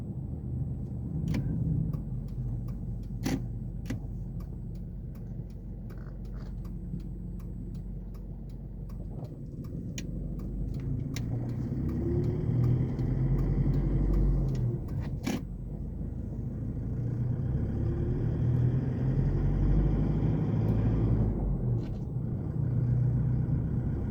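Isuzu KB300 D-Teq diesel pickup, a 2012 LX, driving with a steady low engine rumble and road noise throughout, swelling louder toward the end as it pulls at the top end, with occasional faint ticks and no talk.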